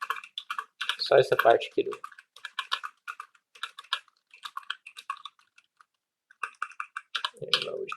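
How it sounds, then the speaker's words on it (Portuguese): Keys clatter on a computer keyboard in bursts of rapid typing during a coding session, with someone speaking Portuguese between and over the keystrokes. "Hoje está ruim de digitar."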